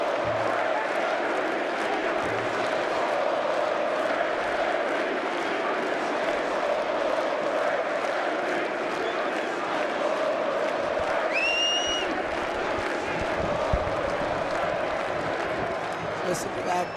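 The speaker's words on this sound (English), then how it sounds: "Listen to that crowd." Large college football stadium crowd at a Michigan versus Iowa game, a distant continuous roar of cheering and noise under a commentator's voice, with a brief whistle-like tone near the end.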